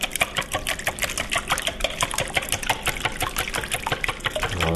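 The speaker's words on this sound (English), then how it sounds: "all you're going to do is whisk it." An egg being whisked in a bowl for crab cakes, with rapid rhythmic clicking and tapping of the whisk against the bowl, close and continuous without speech.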